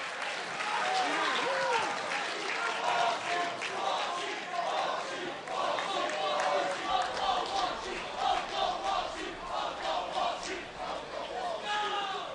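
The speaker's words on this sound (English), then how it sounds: "And the crowd's chanting Uncle Walshy as we take a look at those stats" A crowd at the MLG Meadowlands 2009 gaming championship cheers and chants in a loud, sustained roar with rhythmic voices, while commentators talk over it throughout.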